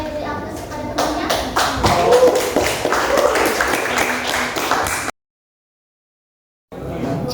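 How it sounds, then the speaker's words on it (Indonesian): Schoolchildren in an Indonesian classroom clap for a classmate, a lively burst of close applause that lasts several seconds before cutting off abruptly. "Boleh beri aplaus kepada temannya?"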